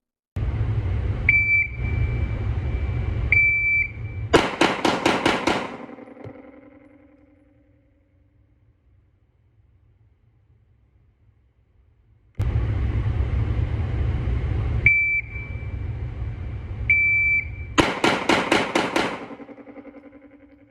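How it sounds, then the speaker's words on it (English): An electronic shot timer beeps during a session firing a Glock 45 MOS pistol, with a long sustained tone followed by a quick burst of loud gunshots, repeated twice with a quiet gap between strings. "I have a shot timer at my disposal to use, so obviously I had to have a little bit of fun with that"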